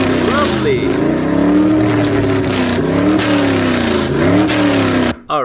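Car engine audio from a beginner's Unity video game, a steady synthetic motor drone with rising and falling pitch sweeps like revving, playing continuously and loud before stopping abruptly.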